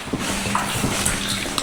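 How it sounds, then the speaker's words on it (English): Water trickles and washes through a flooded drain tunnel, a steady close hiss of running water with faint splashes, continuous and alone. "So not a lot of water going through"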